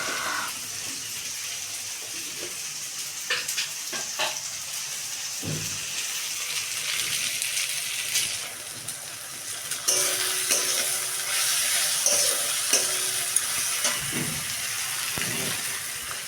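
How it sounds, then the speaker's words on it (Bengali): Onions and tomatoes fried quickly with spices in a pan for chicken kosha: a continuous sizzling, watery hiss with scattered stirring knocks and clatters, growing louder and denser toward the end, no speech. "মশলা এবার পেঁয়াজ টমেটোগুলো ভেজে নিচ্ছি আমি তাড়াতাড়ি করে"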